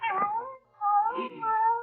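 A cat gives two drawn-out, wavering meows in quick succession, close and clear with no other sound around them.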